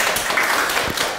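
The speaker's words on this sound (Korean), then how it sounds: "큰 박수 부탁드리겠습니다" An audience at a Korean high school admissions information session breaks into brief, loud applause, a dense burst of clapping that begins to fade.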